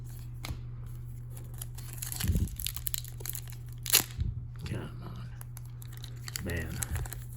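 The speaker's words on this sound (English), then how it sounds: "Opening up 800 of these packs by hand is going to hurt." Hockey card packs from a 2023 Tim Hortons case being torn open by hand: scattered crinkly rips and crunches of foil wrappers, close and fairly quiet, over a steady low hum with brief voice sounds.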